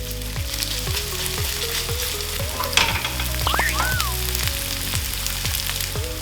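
Grated potato rösti frying in a pan, a steady sizzle with soft repeated scraping or pressing as it is spread flat, running the whole time with no talk.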